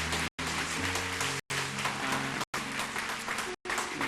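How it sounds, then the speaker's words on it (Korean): A church congregation claps together to celebrate new members during a worship service, dense steady applause broken by several brief silent gaps, with organ or music tones sustained beneath it. "큰 박수로"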